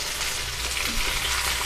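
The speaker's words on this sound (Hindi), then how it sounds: "बैगन थोड़ा भुना चला है और थोड़ा सा हम इसको भूनेंगे" Eggplant pieces frying in hot oil in a pan, a loud, steady, dense sizzle that continues without a break and with no voice.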